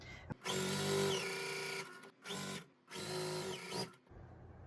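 A sewing machine stitches a quilt block in two long runs with a short burst between them, its motor whirring close and steady with no talk over it.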